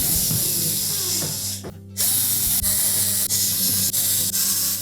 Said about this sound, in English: once we've tightened all the screws on that back panel